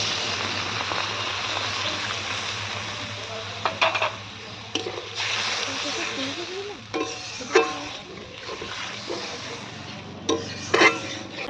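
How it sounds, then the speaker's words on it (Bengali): Water poured into a Bengali chela fish curry cooking in mustard and poppy seed paste, a steady bubbling, sizzling wash with intermittent clanks and scrapes of a utensil against the pan, with no voices. "একটু জল দিয়ে দিলাম"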